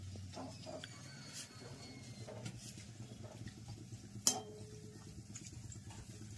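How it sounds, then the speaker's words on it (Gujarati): Small raw puris for pani puri frying in hot oil at home, a low steady sizzle with occasional stirring and a sharp utensil clink near the end, fairly quiet. "આ તૈયાર કાચી પૂરી આવે એ તળવાની પ્રોગ્રામ છે"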